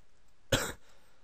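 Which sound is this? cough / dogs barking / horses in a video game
cough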